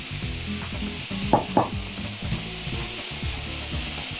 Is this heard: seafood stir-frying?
yes